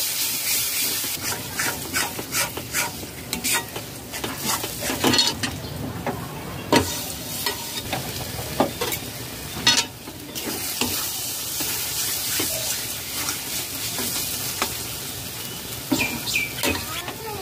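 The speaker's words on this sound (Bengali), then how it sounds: "দু টেবিল চামচ জল দিয়ে কষিয়ে নেব।" Spice paste cooked down with a little water in a pan for a kalmi shak recipe, a continuous close sizzle and spatter under steady scraping strokes of a spoon stirring through the paste.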